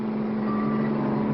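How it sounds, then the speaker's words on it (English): Armored car in a 1959 cartoon rolling toward a bank, a steady droning engine hum with a high beeping tone layered over it, constant and moderately loud. "It's an armored car."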